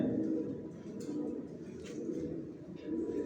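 Long-feathered pigeons sitting on eggs in a new loft coo softly and steadily, with a low rolling murmur throughout, moderately faint and close, no voices.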